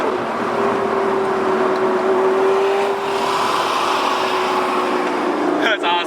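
A straight-piped Lamborghini Gallardo Superleggera, a former track car, drones loudly and steadily from inside the cabin, one sustained engine note running throughout with a brief change near the end.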